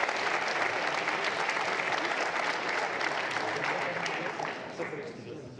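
An audience applauds a team from Cégep de Shawinigan at a science competition where logs are measured, with dense sustained clapping from a crowd that holds steady, then begins to fade.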